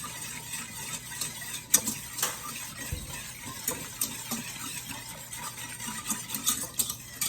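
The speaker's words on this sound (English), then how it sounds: "we're just gonna whisk it well till our" A whisk stirs sugar syrup with two lemon slices in a pot before boiling, for a traditional Albanian dessert, making close, continuous scraping and clinking against the pot with brief sharper taps.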